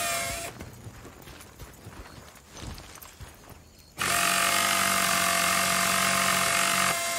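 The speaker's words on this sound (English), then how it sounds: "That's the power tool you've got there." A power tool whirs while fixing a vehicle in the game Battlefield Bad Company, first as scattered mechanical clatter, then a loud steady high-pitched grinding drone that cuts in and holds for about three seconds.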